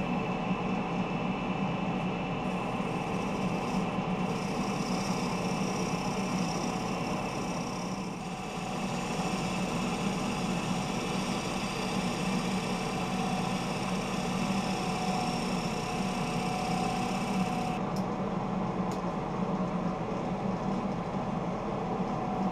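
A wood lathe spins a bowl blank while a gouge takes a smoothing pass along the outside, a loud continuous motor hum with a steady scraping hiss, close and unbroken throughout.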